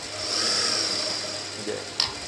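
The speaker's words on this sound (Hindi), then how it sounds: "नीचे से आपने सिलाई शुरू कर देनी है ताकि अदली बदली ना हो" A sewing machine stitching the side seam of a pair of trousers, a brief close mechanical whir that rises and fades over a couple of seconds, ending with a sharp click.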